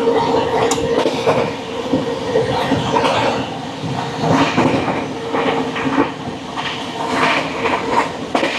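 Train 11448 Shaktipunj Express, on the Howrah to Jabalpur run, rolling steadily along the rails. A continuous loud rumble is broken by rhythmic wheel clicks and rattling carriages throughout.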